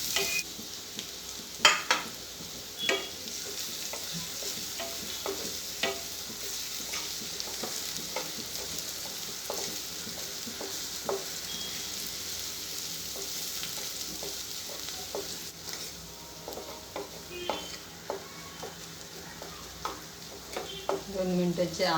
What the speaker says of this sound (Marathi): छान असं तांबूस कलर येईपर्यंत, गुलाबी होईपर्यंत जरा परतून घेते